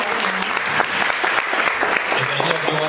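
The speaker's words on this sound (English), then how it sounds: "Please put a round of applause for them." Audience applause for three panelists at the close of an innovfest unbound 2018 session, a sustained roomful of clapping with a few faint voices and low tones mixed in beneath it.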